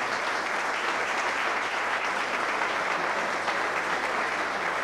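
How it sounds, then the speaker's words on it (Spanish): A crowd at a public gathering gives a strong round of applause, dense, even clapping that stays loud and steady from start to finish with no voices heard. "pido un fuerte aplauso"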